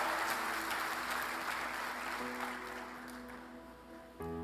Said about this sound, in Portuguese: Você pode dar um aplauso ao Senhor?